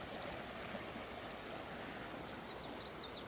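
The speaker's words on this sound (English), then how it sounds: "This is the creek." A creek swollen by heavy rain rushes past, giving a steady, even broadband roar of flowing water, fairly soft and unbroken, with no voices.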